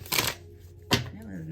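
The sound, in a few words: shuffling a deck of tarot cards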